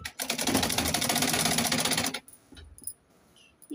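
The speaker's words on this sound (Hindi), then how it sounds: "अब बढ़ते हैं सिलाई मशीन की ओर। अब आपको सिलाई दिखाती हूँ।" A sewing machine stitching lace trim onto a Naira-style suit, running in a fast, loud, continuous rattling burst for about two seconds, then stopping, with a few faint clicks and handling noises after.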